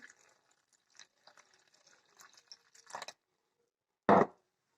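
Water trickles into a well in flour, with eggs and a pinch of salt, for strudel dough: scattered faint drips and dribbles, then a brief louder splash near the end, close by and with no talking.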